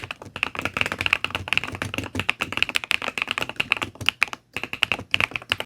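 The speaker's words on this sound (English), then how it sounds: "This one comes with wisteria switches, which have a really smooth feel and a deeper sound profile compared to a lot of stock switches." Rapid, continuous typing on an Epomaker Cypher 81 75% mechanical keyboard with Wisteria switches produces close, crisp keystrokes with a brief pause partway through, then quick clacks resume.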